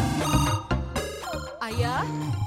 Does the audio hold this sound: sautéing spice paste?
no